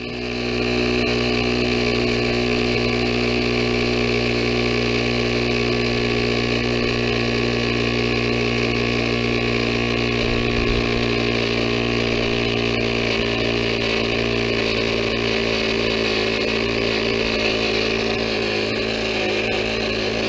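A small electric air pump inflating an electric bike tyre, running as a loud, steady, buzzing motor drone close by for the whole stretch without a break.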